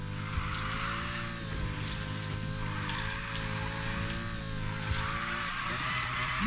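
In Need for Speed Payback, a Lamborghini drifts with a steady, loud engine drone and sustained tire squeal that runs almost without a break, with the pitch wavering slightly through the slide.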